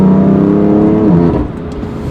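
A BMW F8X fitted with an aftermarket exhaust, valves open, revs with a loud, rowdy, sustained engine note close by, easing slightly near the end.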